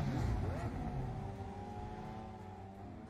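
A Lamborghini engine in the PUBG Mobile video game drones steadily with a rising, then sustained rev and a rumbling low end, fairly close, while players talk over it.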